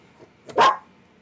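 A single dog bark, short and moderately loud, heard indoors against a quiet background.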